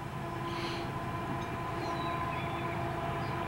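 A CSX freight train rumbles steadily nearby with a continuous low drone and faint high metallic squeals from the wheels, no voices.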